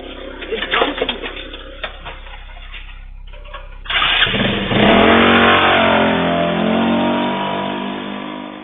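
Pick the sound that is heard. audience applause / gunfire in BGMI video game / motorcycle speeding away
motorcycle speeding away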